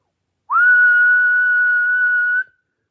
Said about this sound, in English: Ready? I'm going to whistle.